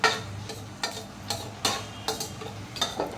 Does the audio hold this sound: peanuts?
yes